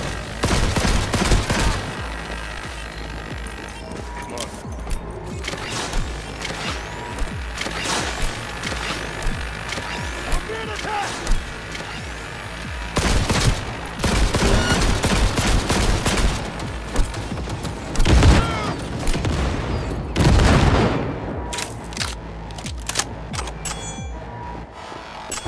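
Dense video-game gunfire in Cyberpunk 2077 during an assault on corporate property, loud rapid bursts of automatic fire and heavy shots in clustered volleys, with crashing impacts between them.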